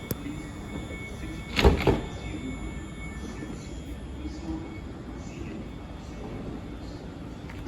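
Doors of a class 710 train closing at a station platform at night: a short burst of sliding and thudding near the start, then steady quiet station ambience.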